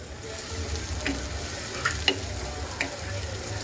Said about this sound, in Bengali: পেঁয়াজটাকে আমি আর দুই থেকে তিন মিনিট ভাজবো